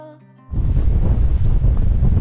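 Wind gusts across a hilltop at Kinder Scout after a brief quiet start, then blast the microphone as a loud, continuous roar.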